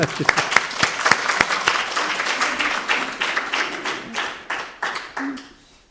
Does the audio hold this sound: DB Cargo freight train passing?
no